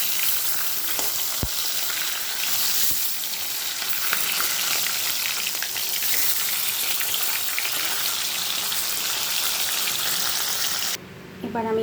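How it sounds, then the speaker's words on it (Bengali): Pieces of katla fish sizzle in hot oil in a pan, a dense, continuous crackling fry that stays loud for about eleven seconds before cutting off abruptly near the end. "এবার মাছগুলোকে ভেজে নেব"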